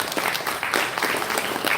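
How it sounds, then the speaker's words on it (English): An audience applauding after a talk on nature and happiness in Bhutan, with steady, dense clapping that fills the whole short stretch at moderate loudness. "I think we can give a big round of applause."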